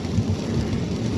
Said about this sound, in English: I do want to apologize for if there's any noise in the background. It's currently raining.